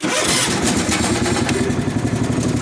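A John Deere 300 lawn mower's engine cranks and fires right up, then settles into a loud, steady running drone close by, with no voices over it.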